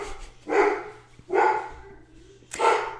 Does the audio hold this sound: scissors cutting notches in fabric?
no